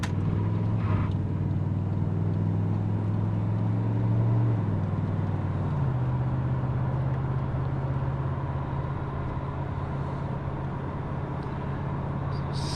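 A 1984 Chevrolet Monte Carlo SS with a Turbo 350 automatic cruises at part throttle just over 2,000 RPM, around 40 mph. Its steady, low engine drone runs unbroken throughout, with road noise and no talking.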